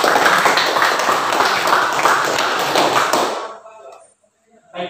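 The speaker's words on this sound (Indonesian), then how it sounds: "Kita berikan aplaus untuk semua kelompok" Classroom applause for student groups who have just presented, a dense burst of many hands clapping that fades out after a few seconds into near quiet.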